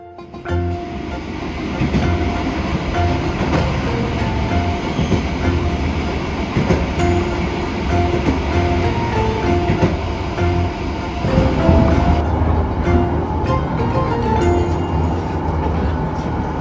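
The Jaka Tingkir economy train runs on rails between Solo and Jakarta, giving a continuous loud rolling rumble with rattling carriage noise and clattering wheels heard from on board, steady for the whole stretch.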